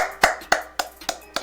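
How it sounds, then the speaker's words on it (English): Five sharp hand claps from a single person, evenly spaced about a quarter second apart, close and crisp with nothing else around them. "Let me clap it up for you, bro."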